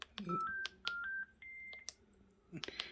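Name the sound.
Panasonic baby monitor button beep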